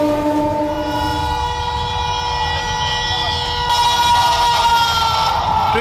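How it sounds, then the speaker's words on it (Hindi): A fast-moving train passes close by with its horn blaring in repeated long blasts over the roar and clatter of the wagons, with a crowd audible in the background. "ट्रेन का ड्राइवर बार बार हॉर्न बजा रहा था।"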